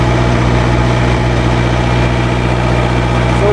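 A Bobcat 773 skid steer engine runs steadily at idle up close, a loud, constant low rumble with a droning hum and no break in tone.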